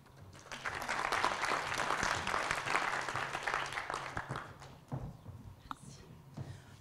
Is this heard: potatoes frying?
no